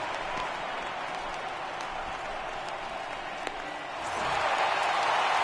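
Stadium crowd noise from the MLB 18 The Show baseball video game at a Yankees home game, a steady roar of cheering and applause that swells louder near the end, with no voices talking over it.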